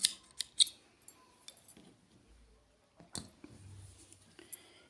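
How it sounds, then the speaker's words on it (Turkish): Scissors snip yarn on a hand-knitted baby cardigan, a few sharp close clicks and crisp cuts at the start and again later, among soft handling rustles, with no speech. "Makasımızda da burayı bir keselim."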